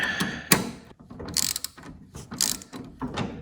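Ratcheting clicks from tightening a tie rod nut on a John Deere D105 lawn mower, in short bursts of close mechanical clatter with brief pauses between them.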